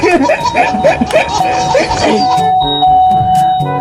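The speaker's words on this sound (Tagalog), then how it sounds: "Ang saya mapindot ang doorbell." A doorbell chimes repeatedly in tinny electronic tones, following lively talk and giggling close to the microphone.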